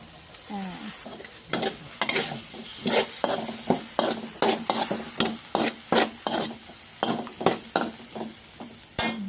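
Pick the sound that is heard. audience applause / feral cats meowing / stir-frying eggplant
stir-frying eggplant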